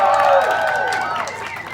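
An audience at a Wild West gunfight show at a ranch in Ruidoso, New Mexico, cheering for the sheriff, a loud blended burst of shouting and whooping voices that tails off over a couple of seconds.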